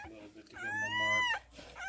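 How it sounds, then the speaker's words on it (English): Newborn Anatolian mastiff cross puppy crying in a rising, wavering whine that lasts about a second, close by, with faint background voices around it. "The other one's still crying."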